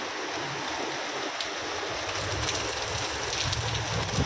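Heavy rain pours outside during a nighttime storm, a dense, steady hiss of downpour that stays loud and unbroken throughout, with no voices.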